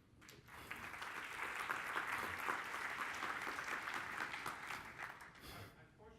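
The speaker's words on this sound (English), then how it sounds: "Let's give Kevin just one brief round of applause." An audience at a security conference claps after a talk on scanning IPv6 hosts, a dense, even round of applause lasting several seconds, heard from a distance in a hall before it fades out.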